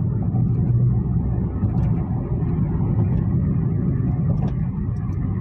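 A Hyundai Grand i10 Nios engine revs up under a hard press of the throttle, a steady loud low rumble heard from inside the car with no voices.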